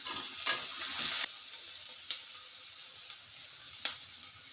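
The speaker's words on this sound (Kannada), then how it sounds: "ಒಂದು 2 ಟೀ ಸ್ಪೂನ್ ಎಣ್ಣೆ ಹಾಕಿದ್ದೀನಿ. ಅದಕ್ಕೀಗ ಈರುಳ್ಳಿ ಹಾಕ್ತಾಯಿದ್ದೀನಿ." Onion and salt fry in a couple of teaspoons of hot oil, giving a bright, steady sizzle. Stirring scrapes and taps come through now and then, and the cooking is heard alone with no speech.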